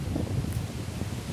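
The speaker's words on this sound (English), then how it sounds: "Sorry about the wind, y'all." Steady low wind rumble buffeting the microphone, with a faint rustle over it and no speech.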